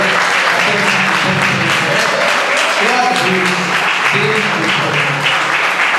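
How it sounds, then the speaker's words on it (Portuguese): A church congregation applauds loudly and steadily throughout, a dense sustained clapping with a voice speaking over it. "A igreja pode dar uma salva de palmas, glória a Deus."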